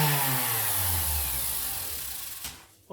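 A power sander with a 240 grit disc works over a cast iron saw table top, a steady loud whirring hum that slowly drops in pitch before cutting off near the end.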